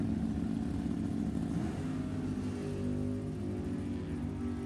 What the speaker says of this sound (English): That Camaro moves out.